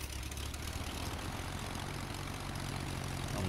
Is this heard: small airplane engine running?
yes